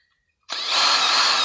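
A power tool clears dirt-clogged M8 x 1.25 threads on a Land Cruiser rear axle stud. It kicks in abruptly after a moment of quiet and holds a loud, steady, high-pitched whirring whine.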